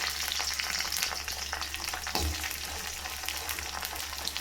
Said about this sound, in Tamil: எண்ணெய் சூடாயிடுச்சு, சுண்டைக்காய் சேர்த்துக்கிறேன்.